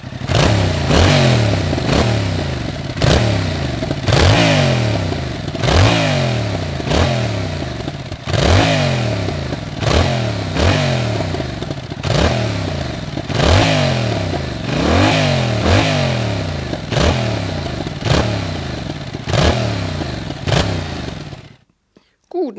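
A 2021 Yamaha MT-07 motorcycle engine revs repeatedly in a steady series of loud rising blips, each climbing and falling back, close by with no talk, ending abruptly.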